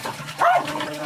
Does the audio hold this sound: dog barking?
yes